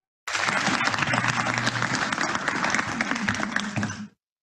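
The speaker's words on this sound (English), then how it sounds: "Please give a round of applause for our 2020 Osteopathic Heritage Award winner, Dr. Dorvin Byler." A large audience claps steadily for a 2020 Osteopathic Heritage Award winner at a graduate awards ceremony, dense and even throughout, with a few faint voices underneath before it stops abruptly.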